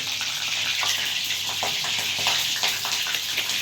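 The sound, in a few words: green chillies frying and spluttering in oil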